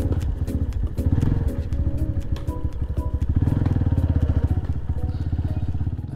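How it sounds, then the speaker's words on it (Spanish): A motorcycle engine with internal damage runs close by with a rough, uneven clatter and knocking, its pulsing idle rising and falling irregularly. "así se escucha cuando una moto se le ha dañado algo en el interior del motor"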